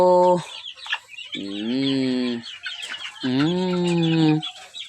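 Gamefowl on a farm cluck and crow loudly and close, with three drawn-out harmonic calls spaced a second or two apart, and faint bird chatter filling the gaps between them.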